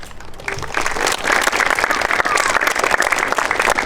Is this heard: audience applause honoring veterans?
yes